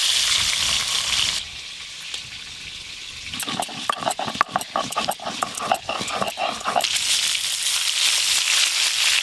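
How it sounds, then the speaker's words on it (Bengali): Dried red chillies being ground by hand on a grinding stone, a burst of rhythmic rough scraping strokes in the middle, set against steady outdoor background noise, no talking. "এবার শুকনো লঙ্কাগুলো বেটে নিই।"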